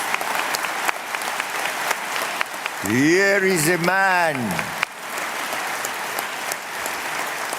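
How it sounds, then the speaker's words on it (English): Audience applause fills a large hall at a speech by Robert Mugabe welcoming China to Africa, a steady roar of clapping that continues while someone speaks over a PA, with a brief swell of voice in the middle. "you will agree with me that we give him a round of applause"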